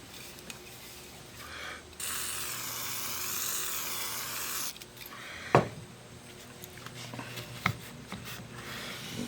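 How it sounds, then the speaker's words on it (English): Electrical grade contact cleaner sprays onto a pinball stepper unit from a Bally Flip Flop machine in one steady hiss of about three seconds. Quiet clicks and handling knocks come before and after it. "Now I'm going to use some of the, here we go, electrical grade contact cleaner."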